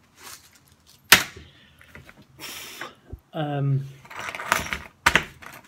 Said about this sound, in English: That's 3 sets of keys.